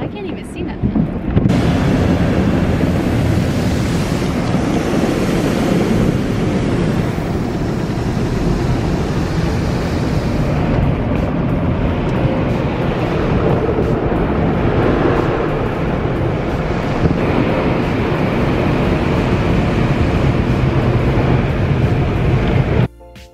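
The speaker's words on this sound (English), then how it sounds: "I hate being in the car wash while people are in front of me." Automatic car wash running with a car inside during a gold Supreme wash cycle: a loud continuous roar of spraying water and churning brushes that stays steady and drops off sharply at the end.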